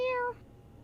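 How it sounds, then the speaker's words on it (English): A pet cat gives one short, clear meow close by indoors, rising slightly and then cutting off into quiet room tone. "This is my kitty."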